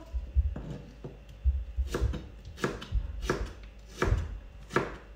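A whole onion being chopped on a board, a steady series of knife strokes, roughly two per second, each a crisp thud with a low knock, close and clear with no talking.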